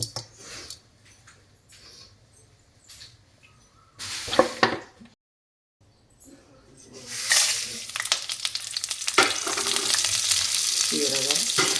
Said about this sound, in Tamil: அடுப்பத்தை வச்சு நம்ம வடைச்சட்டி வச்சு எண்ணெய் ஊற்றி வெங்காயம் போட்டு வறுக்கலாம்.